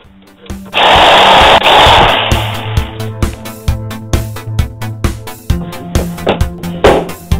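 A jigsaw buzzes loudly through a wooden shelf for a couple of seconds, then chops and sputters in short rhythmic bursts as the cut continues.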